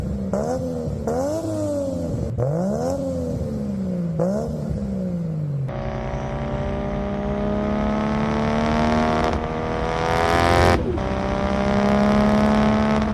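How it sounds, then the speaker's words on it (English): A tuned Nissan R34 GTR with a single turbo kit revs repeatedly, each pull rising and falling in pitch, then holds a loud sustained high-rpm drone that climbs near the end, up close with no talking. "now your car sounds like Brian's from Too Fast, Too Furious"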